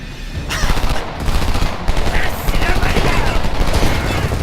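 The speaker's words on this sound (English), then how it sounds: "Machine gun, second floor window!" Sustained machine gun fire from a second-floor window in the shooter game Homefront, a dense, loud, continuous rattle of rapid shots with battle noise filling the whole stretch.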